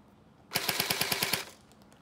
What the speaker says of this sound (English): Right now it's on fully auto, guys.